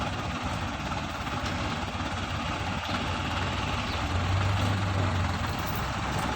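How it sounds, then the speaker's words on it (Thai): A Ford tractor engine idles steadily with a low rumbling drone, continuous and fairly loud, with no speech over it. "ใช้รถไถฟอร์ดที่ทำครับผม"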